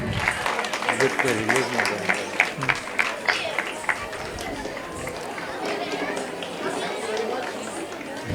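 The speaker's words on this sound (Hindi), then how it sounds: "जोरदार तालियां नरेंद्र सर के लिए" An audience at a dance academy's annual day celebration in Mumbai claps for an honoured guest, a crowd's applause rising and tapering under a speaking voice and general chatter.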